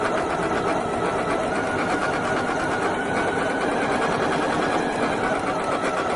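A Janome Memory Craft 9450QCP sewing machine stitches steadily, a continuous fast whirring hum at even volume from close by with no talk.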